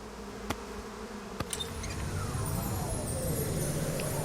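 Bees buzz in the Psychonauts 2 video game as a steady, fairly quiet droning hum with a few sharp clicks near the start.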